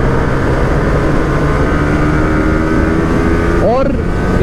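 A motorcycle engine drones steadily while riding along a highway, loud and constant with heavy wind noise throughout.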